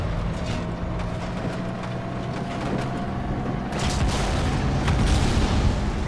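Continuous rumbling battle noise in Halo 2 with scattered explosion booms and sharp blasts, growing louder toward the end.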